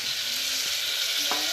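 Spiced flour batter hits hot oil and fries with a loud, close, continuous hiss and crackle, a short unbroken burst of sizzling.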